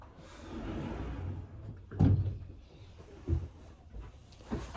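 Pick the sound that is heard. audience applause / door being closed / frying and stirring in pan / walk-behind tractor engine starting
door being closed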